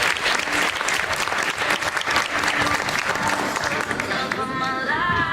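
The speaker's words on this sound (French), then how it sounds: "Vous pouvez l'applaudir" A crowd claps at the Miss Excellence Oise 2019 pageant gala, sustained and fairly loud, with a few voices and cheers mixed in and the clapping thinning toward the end.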